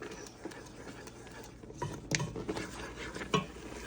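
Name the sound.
stirring pepper jelly in a saucepan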